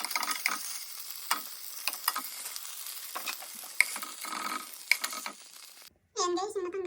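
Garlic sizzles in a pan of oil while chicken adobo is cooked, a steady crackling fry with scattered sharp pops for about six seconds before a brief silence and a louder tonal burst at the end.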